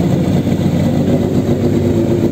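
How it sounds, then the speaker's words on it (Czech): Racing buggy engine idling as it warms up in the paddock on a Saturday morning, a steady, loud, continuous low rumble with no pauses and no voices over it. "Já si jdu poslechnout Martinovu buginu ještě, ta už je taky ve fázi zahřívání"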